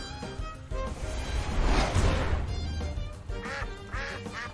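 Cartoonish duck quack from the monster-catching video game Temtem, ringing out loud amid busy in-game music and battle effects.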